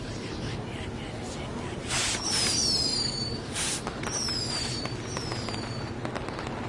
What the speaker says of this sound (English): we'll get to see some cool fireworks